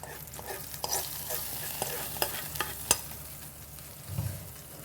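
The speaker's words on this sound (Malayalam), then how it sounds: "അപ്പം നമ്മുടെ പച്ചടിക്കകത്തോട്ട് നമുക്ക് താളിച്ചിട്ട് കൊടുക്കാം" Hot tempering sizzles and is stirred into bitter gourd pachadi made with sun-dried bitter gourd, a soft steady frying hiss broken by scattered spoon clicks and pops, close and fairly quiet.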